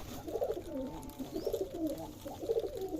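Racing pigeons at a pigeon farm in Rajshahi coo in repeated soft, throaty rolls, several birds close by with overlapping calls and no voices.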